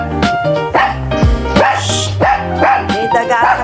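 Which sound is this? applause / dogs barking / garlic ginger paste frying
dogs barking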